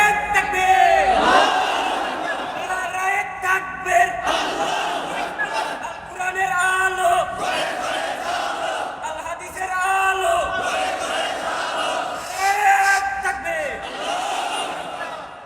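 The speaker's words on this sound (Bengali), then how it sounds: "একটা মুজাহিদ তাকবীর লাগান, নারায়ে তাকবীর দেখি।" A large crowd at a Bangla religious waaz gathering shouts the takbir chant in response to a preacher, roaring in repeated rhythmic waves of loud collective shouting with brief pauses between calls.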